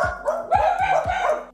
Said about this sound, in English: the dogs are barking because Joe's unloading the car